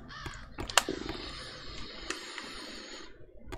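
Crows caw in a wrecked hotel room in the game Sense, several harsh calls scattered over a faint, hissy ambience at moderate distance.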